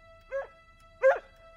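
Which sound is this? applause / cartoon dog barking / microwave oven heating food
cartoon dog barking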